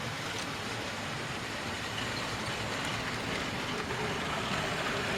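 A model railway S15 locomotive runs steadily along the track of a loft layout, producing a continuous close rumbling rattle that stays even in loudness throughout, with no talking.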